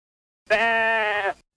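A single sheep bleat from a children's educational farm computer game, one sustained wavering baa lasting about a second, loud and close, heard alone with no talk over it.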